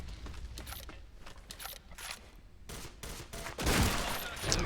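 Sniper and FAMAS gunfire in a Counter-Strike esports match crackles in quick sharp bursts, scattered shots building to a louder cluster near the end, with no talking over it.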